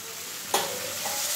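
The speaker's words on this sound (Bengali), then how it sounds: "সবজিটা হালকা হালকা ভাজা হয়ে এলে এর মধ্যে আমি মুগ ডালটা আর ডালিয়াটা দিয়ে একসঙ্গে একটুখানি হালকা ফ্রাই করে নেব" Vegetables frying lightly in a pan for dalia khichuri, a soft steady sizzle with a sharp scrape of a spatula near the middle.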